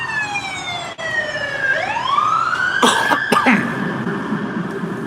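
A loud wailing siren sweeps down then rises again, steady and close, with a couple of brief sharp noises in the middle.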